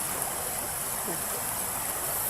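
Steady rushing water, a continuous broadband wash like a flowing stream, with a faint murmur of voices underneath.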